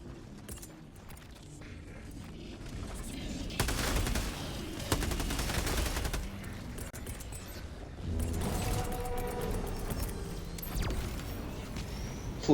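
A tower activating in the video game Helldivers-style bot mission produces heavy mechanical rumbling and rattling bursts that swell and fade in several long waves over quieter ambience, with no talk.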